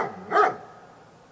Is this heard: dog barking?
yes